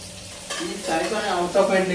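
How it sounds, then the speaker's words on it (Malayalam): Ginger and garlic fry in oil for chicken curry, a close, continuous sizzle with scraping stirring strokes that swell in bursts. "നമ്മുടെ ഇഞ്ചിയും വെളുത്തുള്ളിയെല്ലാം മൂത്ത് വരുന്നു"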